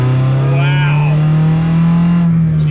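A modified Toyota Yaris engine revs loudly at high rpm, its steady powerful drone holding through the clip and dipping slightly near the end, with people talking over it.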